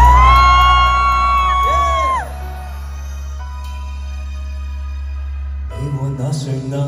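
An audience at a Hong Kong radio station's anniversary concert show screams and cheers with loud, high whoops that fade, followed by a low sustained hum and the start of music.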